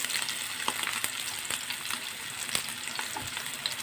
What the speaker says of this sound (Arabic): هنبدا ان احنا ايه نشوح كده البصل لحد برده ما ياخد تتبيله